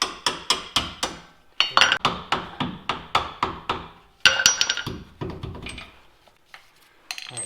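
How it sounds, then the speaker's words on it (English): Rapid series of sharp metallic hammer taps driving a bolt through during a rear block lift install on a third-generation Toyota Tacoma, in quick bursts, close and ringing, with short pauses between groups. "Then we'll gently tap this bolt through with a hammer."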